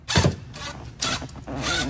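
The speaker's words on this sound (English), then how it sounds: "Then I can go on the backside and tighten everything down with the nut and washer." A nut and washer being tightened onto a machine screw on an outboard motor control, with a few close, short ratcheting and creaking mechanical bursts.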